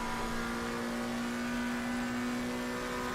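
A race car engine in a racing video game at Paul Ricard drones steadily and loudly throughout, a sustained mid-pitched hum with a strong constant tone and no pauses.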